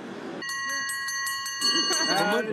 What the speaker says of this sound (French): Ces cloches sonnent la fin de notre week-end.